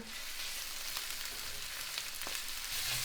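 Garlic sautéing in a pan for pasta con le sarde, a steady broadband sizzle running unbroken throughout with a couple of faint stirring clicks, no voices.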